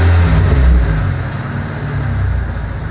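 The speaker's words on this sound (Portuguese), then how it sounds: "Tem que dar uma aceleradinha aí" A car engine being revved in a garage while troubleshooting a water leak and an engine that only runs with the accelerator pressed, a loud low rumble that swells early and then settles into a steady idle.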